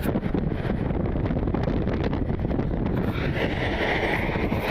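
Wind buffets an outdoor microphone at a busy airport at night, a constant loud rumbling roar with no pauses, and no one talks over it.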